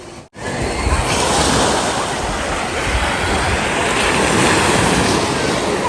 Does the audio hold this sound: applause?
no